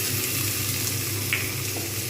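Mango pieces for chutney stirred gently and fried in a pan, giving a steady, soft sizzle with faint scraping, close and continuous with no talking.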